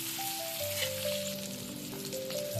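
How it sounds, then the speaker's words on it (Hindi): Potatoes frying in oil with turmeric and salt for aloo dum: a gentle continuous sizzle heard close, with steady tonal hum lines running alongside and no talk. "आलू अच्छे से हल्का सा फ्राई हो गया है।"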